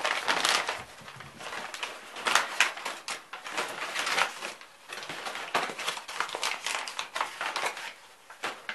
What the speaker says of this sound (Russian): Правда, тут громкое шуршание.